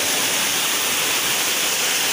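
Strong floodwater rushing in a steady, loud, unbroken roar that stays close and constant throughout, with no voices over it.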